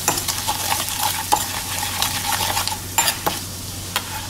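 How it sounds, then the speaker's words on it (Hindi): Garam masala, amchur and other ground spices roasting in a pan for bread patties, stirred with a spoon that scrapes and taps the metal over a steady sizzle. "इन मसालों को हम अच्छे से भून लेंगे"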